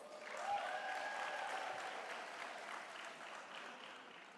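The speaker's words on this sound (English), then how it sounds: "Can you please give yourself a big round of applause?" Graduation audience at a Durban university health sciences ceremony breaks into sustained applause, a steady wash of many hands clapping that swells early and holds, filling the hall without any talking.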